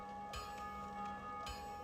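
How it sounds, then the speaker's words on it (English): Bell tolls in the video game Dark Souls Remastered, two clear strikes about a second apart with a sustained metallic ring between them, heard faintly and alone. "did you hear someone ringing the bell?"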